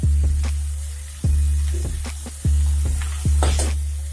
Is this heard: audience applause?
no